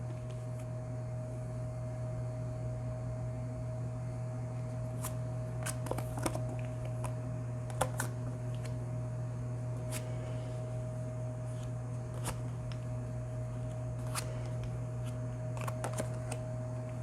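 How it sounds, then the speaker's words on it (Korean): Tarot cards being spread out on a surface give soft scattered slides and light clicks over a constant electrical hum, with no talking. "카드 먼저 펼쳐보겠습니다"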